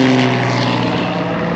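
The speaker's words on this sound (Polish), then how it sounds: "Samoloty latają w tle." Propeller-driven airplanes drone steadily in the distance, a continuous low engine hum with a sustained tone running through the whole stretch, no voices over it.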